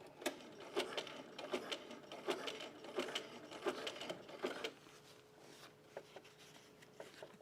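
A sewing machine running a cover stitch along a bralette edge, close and uneven, with bursts of rapid rhythmic stitching broken by short pauses and soft handling noises.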